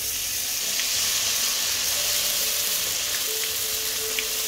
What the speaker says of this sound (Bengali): এবার ওই তেলে আমি দিয়ে দেব আদা রসুনের পেস্ট, বেটে রাখা মশলাটা দিয়ে দেব